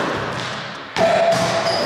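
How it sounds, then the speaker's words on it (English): A basketball thrown off the backboard during a backyard game of H.O.R.S.E. hits with one sharp, close thud, followed by a lingering ringing hum. "I'm going to try to throw it off the backboard, catch my own rebound, and then shoot."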